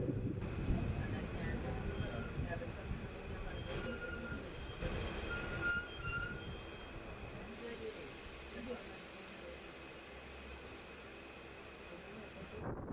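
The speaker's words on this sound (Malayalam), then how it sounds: "ചേപ്പാട് റെയിൽവേ സ്റ്റേഷനിലോട്ടാണ് ഇപ്പോൾ അത് എത്തിയിട്ടുള്ളത്" A passenger train rumbles into Cheppad railway station in Kerala with high-pitched wheel squeals and hissing brakes, then slows and settles into a quieter low hum.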